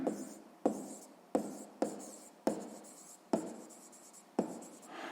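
Pen writing by hand on paper during a sixth-grade math lesson: a series of close, crisp strokes and scratches come in short bursts separated by brief pauses, with no talking.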